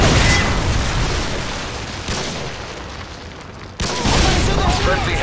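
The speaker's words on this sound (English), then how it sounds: "Friendly predator missile incoming." Continuous rumbling blasts and explosive booms fill a Call of Duty: Modern Warfare 2 Domination match on the Quarry map, loud and dense, as a predator missile strike lands amid ongoing gunfire and a sudden sharp burst near the end.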